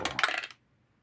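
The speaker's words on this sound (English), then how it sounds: "And the dice roll." Dice tumbling across a table during a tabletop role-playing game, a short close rattle of clattering hard pieces lasting about half a second before stopping abruptly into silence.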